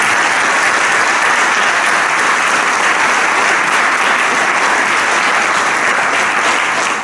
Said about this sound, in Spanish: Me gustaría dar el primer aplauso a Bernardo Colsa y a Felipe.